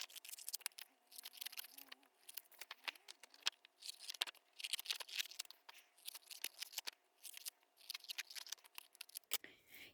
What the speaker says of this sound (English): I'm gonna fussy cut out these pieces.